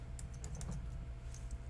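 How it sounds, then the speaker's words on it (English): A short burst of keyboard typing, several soft, closely spaced key clicks heard up close and alone as symbols are keyed in. "for example, these symbols I'm typing,"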